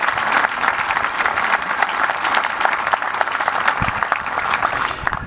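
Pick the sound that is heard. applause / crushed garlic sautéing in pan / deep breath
applause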